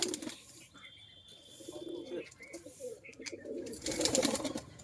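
A flock of Andhra high-flyer pigeons in a crowded loft coos softly and intermittently, with rustling and a few faint wing movements; a voice is briefly heard in the background.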